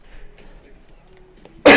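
A single sharp cough bursts out loudly near the end, after a stretch of near-quiet room sound.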